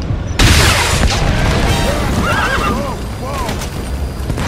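Horses neighing and whinnying in the video game Metal Gear Solid V: The Phantom Pain, several wavering calls over loud, dense game noise with rumbles and crashes throughout.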